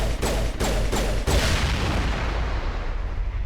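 Rapid gunfire bursts in Mass Effect, several sharp shots in quick succession aimed at a fuel tank, followed by a heavy explosion-like boom and a long rumbling decay that fades out.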